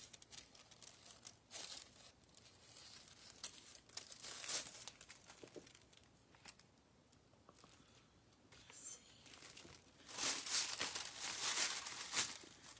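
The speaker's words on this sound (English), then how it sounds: "this is not my greatest scissors to do this with" Scissors cutting through material at home, a series of crisp crinkling snips with paper-like rustle, close and moderately loud, with quiet speech in between; the snipping grows denser and louder near the end.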